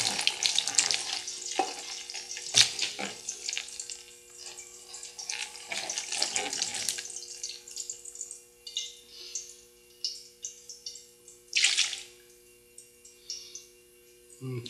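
Liquid ceramic glaze poured over a fairly large pot held above a basin, a splashing, trickling wash that is loud at first, then thins into scattered drips and dribbles.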